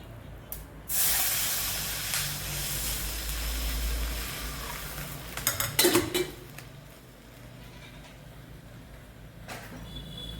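Water pours into a hot cooking pan for sambar and sends up a loud hiss of steam, followed by metallic clatter from utensils and a quieter, steady simmer.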